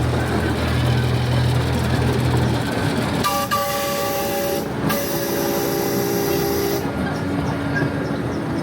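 A train rumbles steadily nearby as it crosses a trestle over an estuary, with sustained horn-like tones and a hissing wash of noise, loud throughout.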